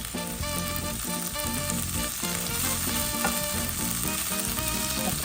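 Mixed bolognese meat fries in a pan with a steady, loud, continuous sizzle. Tonal music runs alongside it, and no one speaks.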